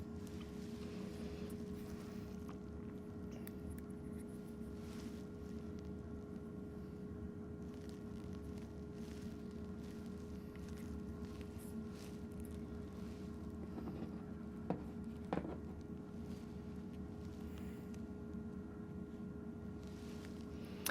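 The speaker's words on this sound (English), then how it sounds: "you're going to hear some of the ambient noise in the room" Steady low ambient hum and broadband background noise of an indoor room, recorded with noise cancelling off, with a faint constant tone and a couple of small knocks.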